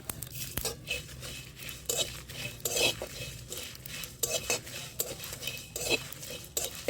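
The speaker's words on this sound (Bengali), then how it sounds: "সাদা জিরে সব একসঙ্গে ভেজে দিলাম" Coriander, fenugreek, fennel and cumin seeds fry together in a pan for an amla pickle, with steady stirring and frequent scraping and clinking of a spoon against the metal throughout.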